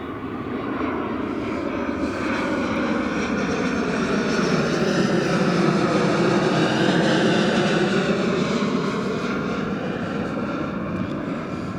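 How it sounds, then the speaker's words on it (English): A Delta Boeing 757 airliner arriving from New York passes over Denver International Airport, heard as a loud, continuous engine roar that swells and sweeps in pitch as the jet flies by, with no talk. "this next one is Delta 757 from JFK, New York"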